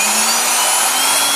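A power drill boring out a 3D-printed rear suspension part for a Tamiya Hornet RC car gives a steady, close, high-pitched whir that holds for over a second with no talking.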